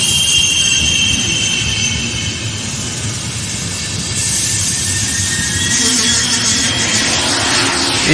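A train pulling into a station as an audio-drama sound effect: a steady, loud rolling rumble of wheels on rails with high, sustained squealing tones riding above it, continuous throughout with no voices.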